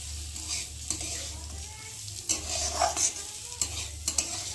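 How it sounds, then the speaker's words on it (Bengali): Rice fried in a pan for basanti pulao is stirred continuously, the spatula scraping and clinking against the pan in close, uneven strokes over a low, steady sizzle and hum. "চালটাকে একটু ভালো করে ভেজে নেব যাতে না তলায় লেগে যায়, সবসময় একটু নাড়তে থাকবো"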